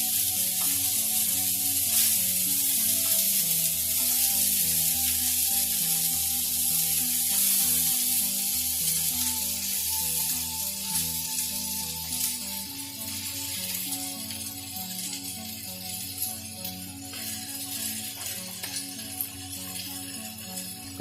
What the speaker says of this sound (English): I'm just searing these. I'm just going to go ahead and start flipping.